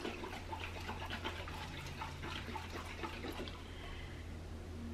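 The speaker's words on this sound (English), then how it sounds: "So then you just shake it up." A glass mason jar of cinnamon tincture is shaken, giving a soft, steady liquid sloshing with quick rhythmic swishes over a low background hum.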